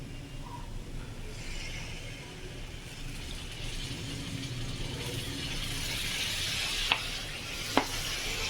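Fried rohu fish sizzling in a pan as sour yogurt goes in, a continuous hissing fry with stirring scrapes and a couple of sharp clinks near the end.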